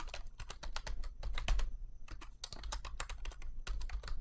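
Fast, steady keystrokes on a computer keyboard, close up, with dense rapid clicks and a few brief pauses and no talking.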